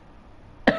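A single short cough bursts out near the end, close and fairly loud after near-silence.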